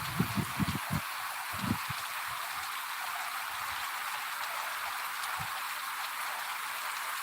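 Rain falling over a village in Gujarat, a soft steady hiss with a few low thumps and knocks early on, fairly faint and continuous with no voices.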